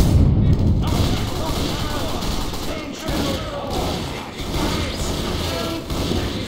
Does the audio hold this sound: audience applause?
no